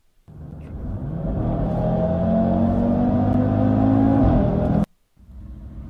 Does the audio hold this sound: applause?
no